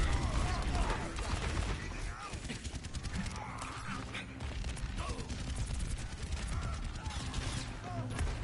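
Rapid gunfire aimed at a shield in a video game, a dense, continuous crackle of shots and impacts that runs throughout, with mechanical clatter mixed in and voices faintly underneath.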